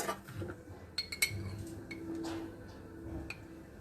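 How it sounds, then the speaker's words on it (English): A spoon clinks and scrapes against a bowl while mixing maple syrup with raw cacao powder, with a few sharp taps over faint background noise. "All I'm going to do is mix that up in a bowl."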